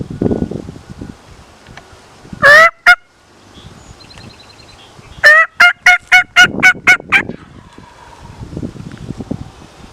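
A wild turkey tom gobbles outdoors: one short burst, then a longer rapid run of gobbling notes a few seconds later, fairly close and clear over quiet rustling, with no talking.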